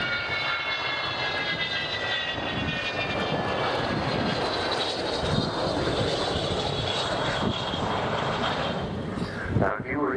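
An Avro Vulcan jet bomber with four Olympus engines roars past at an air show with a steady, heavy engine rumble and a high whining tone, loud and continuous throughout.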